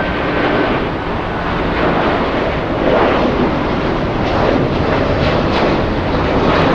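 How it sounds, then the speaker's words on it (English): An Airbus A330 takes off at LAX with a loud, sustained jet engine roar that stays steady and broad throughout, mixed with wind buffeting on the microphone. "Here goes the A330 to Honolulu."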